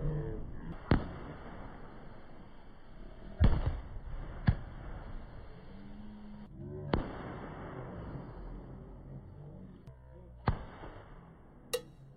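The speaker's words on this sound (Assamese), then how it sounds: "ৰাস্তাত পুৰা বোমা মাৰি আছে" Firecrackers burst on the road during a wedding procession as sharp, loud cracks at irregular intervals, about six or seven of them. A busy crowd murmurs and voices carry between the blasts.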